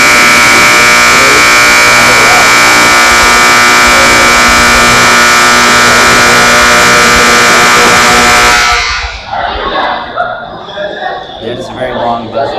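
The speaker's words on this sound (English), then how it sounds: "That is a very long buzzer." A very long, loud, steady buzzer blares for about nine seconds at a goalball championship game in a gym, then cuts off, leaving the murmur of the crowd.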